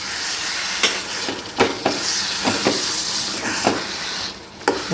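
Tomato puree and chopped raw tomatoes fry in hot oil with a steady sizzle and hiss, broken by repeated scraping thumps of stirring at irregular intervals, close up and without talking.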